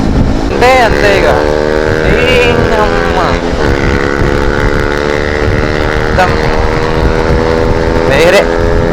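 A group of KTM motorcycles on a Republic Day ride, their engines revving loudly and continuously with rising and falling whines close by, mixed with wind buffeting and voices.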